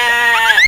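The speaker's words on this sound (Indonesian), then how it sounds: "Nama kambing lu Jepri ya kok" A goat gives a single loud, close, wavering bleat that rises in pitch before cutting off.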